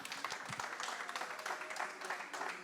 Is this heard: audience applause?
yes